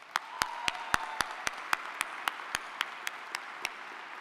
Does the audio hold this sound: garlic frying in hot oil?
no